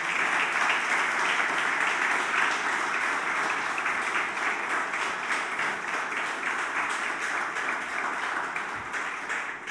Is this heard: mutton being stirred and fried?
no